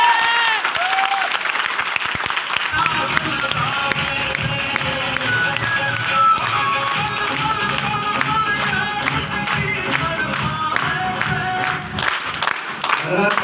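An audience at a business seminar breaks into applause, crisp rapid clapping over music with a strong rhythmic beat, loud and continuous, ending in a few spaced claps.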